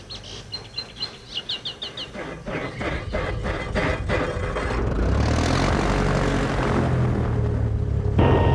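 A Cessna light aircraft taxis for takeoff at New Bern. Birds chirp briefly at first, then the propeller engine's drone builds into a loud, steady roar that swells further near the end.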